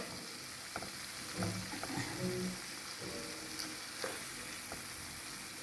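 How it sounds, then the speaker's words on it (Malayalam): Eggs stirred into masala in a hot pan for a Kerala egg roast give a steady sizzle, with scattered scraping stir strokes standing out close and clear. "നേരത്തെ എടുത്ത് വെച്ചിരുന്ന മുട്ട ഇതിലോട്ട് ഓരോന്നായിട്ട് മിക്സ് ചെയ്യാം"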